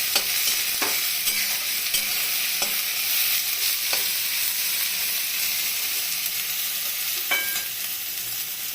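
Spices fry for egg curry while a utensil stirs them in a pan. A loud continuous sizzle carries a few sharp scrapes and knocks, with no talking.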